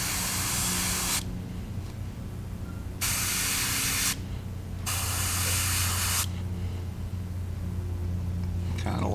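Airbrush spraying black paint onto a fishing lure in pink crawdad pattern, three loud hissing bursts of a couple of seconds each separated by quieter gaps with a steady compressor hum beneath.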